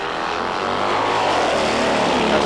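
A turbocharged drag bike at a nitro drag-racing meet at Hockenheim launches after being revved to around 12,000 rpm, giving a loud, sustained, broadband engine roar that holds steady and close for the whole moment.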